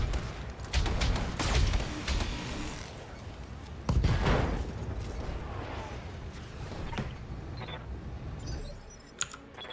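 Rapid clattering mech weapon fire in the BattleTech video game, sharp bursts of impacts concentrated early and again around the middle, then quieter mechanical ticking and faint scattered clicks.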